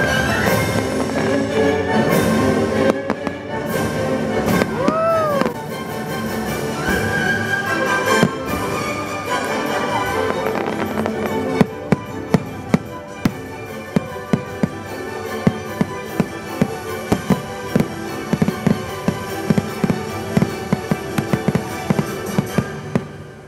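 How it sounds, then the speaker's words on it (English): Fireworks show at Disneyland, heard from a crowd sitting on the ground, with a dense continuous roar of bursts and crackles plus a rising whistle, then a rapid string of sharp loud pops toward the finale. "Watched the fireworks show"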